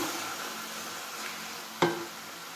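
Grated carrots for gajar ka halwa sizzle steadily while being sautéed in a pan, a soft, continuous frying hiss with one sharp clatter of stirring partway through and no talking.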